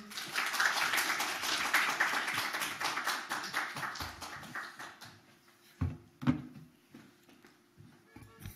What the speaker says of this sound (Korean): 큰 박수로 우리 환영해 주시기 바랍니다